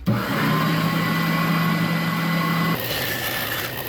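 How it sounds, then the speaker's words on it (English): A belt sander's steady motor drone with a constant whine runs throughout, its tone shifting and roughening near the end as a sanding-belt cleaning stick presses against it. "we're going to clean it up a little bit with the sanding stick cleaner"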